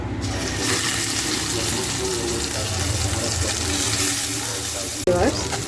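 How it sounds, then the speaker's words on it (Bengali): Taki fish fry with salt in hot oil, giving a continuous loud sizzle and crackle close by that lasts nearly the whole stretch. A brief clatter comes near the end. "এখন আমি টাকি মাছের ভর্তা খাওয়ার জন্য এটাকে মাছগুলো লবণ দিয়ে একটু ভেজে নেব"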